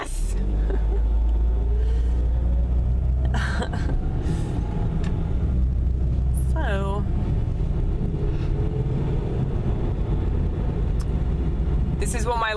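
A car drives at night with a constant loud low engine and road rumble. Some other noise comes through intermittently, and a voice is heard faintly.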